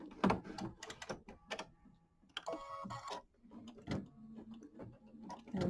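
A sewing machine stitching a small quilt, with quick bursts of rapid mechanical clatter separated by short pauses, close and moderately quiet, plus faint handling noises between runs.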